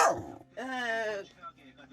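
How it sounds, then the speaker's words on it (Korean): A nine-year-old house dog barks at the doorbell, one sharp yelp followed by a longer, strained bark and a few fainter trailing yips, close and loud. "이렇게 짖는 거"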